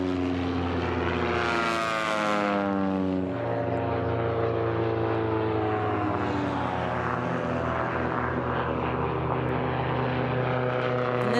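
Racing biplane with a metal propeller, flown by Jeffrey Lowe in the Biplane Silver class at the 2018 national championship air races, drones loudly as its propeller engine passes close by, the pitch falling and then fading into a steady distant hum.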